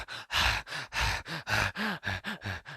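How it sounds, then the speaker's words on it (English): Jack, the injured character in the King Kong video game, pants heavily in a rapid, even series of loud breaths, each one close and short, with no other sound. "Jack will start breathing quite heavily, panting, the screen will go yellow"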